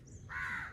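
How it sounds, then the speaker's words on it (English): A crow caws once by a lagoon in Sri Lanka, a single harsh call at moderate distance over quiet outdoor ambience. "There are crows."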